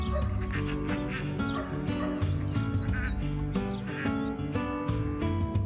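Farm geese and ducks in open countryside quack and honk continuously in a dense, busy chorus of overlapping calls.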